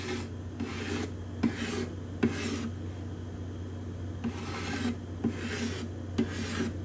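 Steady rhythmic rasping strokes of a scraper working Indian rosewood bindings on a spruce-topped guitar, about eight even back-and-forth passes, close and clear over a low constant hum.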